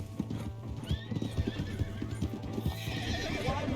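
Hooves clip-clop at a rapid gallop in Red Dead Redemption 2 while a horse whinnies briefly, the rhythmic thuds steady and close throughout, with no talk over them.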